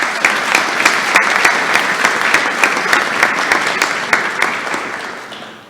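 Audience at an AFJROTC summer flight academy awards ceremony applauds warmly, a dense, steady burst of clapping with distinct sharp claps on top that fades out toward the end.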